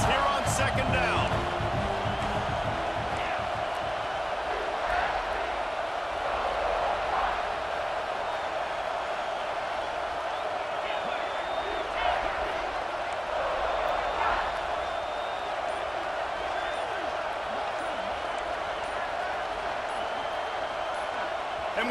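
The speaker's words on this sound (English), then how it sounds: "The noise level is relentless here on second down." A packed stadium crowd at a football game roars in a steady, relentless wash of noise on a second down in the red zone, with scattered bangs and claps running through it throughout.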